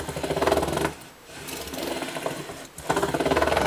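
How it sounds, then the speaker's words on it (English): Fine 1000-grit sandpaper rubbing along a guitar neck in three long, close abrasive passes separated by brief pauses, with no one talking. "I want to go over it a few times because this is very slick sandpaper."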